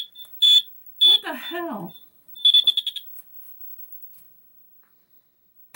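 A battery-powered smoke alarm, just fitted with new batteries, gives a loud test: two short shrill beeps, then a rapid burst of beeps, with a person exclaiming between them.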